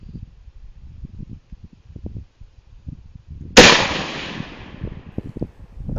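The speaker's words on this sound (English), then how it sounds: "This is the first shot." A single rifle shot fired while zeroing a Commander NV400 night vision scope at a 25-yard target: one sharp, loud crack with a fading tail, after several seconds of quiet low rumble.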